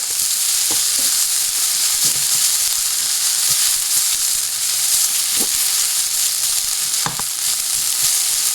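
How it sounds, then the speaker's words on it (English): Mustard seeds, cardamom and chili pepper frying in hot oil for a Bengali fish curry, giving a steady, loud sizzling hiss broken by scattered sharp pops and crackles throughout, with no talking. "we're just going to stir this until the mustard seeds start to pop."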